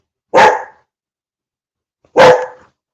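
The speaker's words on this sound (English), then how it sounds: "Every time I take the mute off, my dog barks." A dog gives two loud, sharp barks close by, separated by about two seconds of silence, with no speech.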